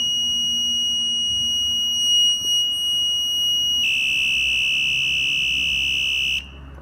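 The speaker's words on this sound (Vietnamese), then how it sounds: "Khi mà ấn vào thì nó sẽ kêu này, kêu còi." A bicycle anti-theft alarm horn emits a steady piercing electronic tone, then switches to a louder, harsher tone for a few seconds before cutting off; close and continuous with no talking.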